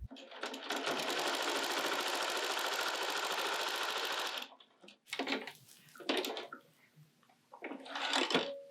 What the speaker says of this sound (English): now I'm gonna go ahead and sew them together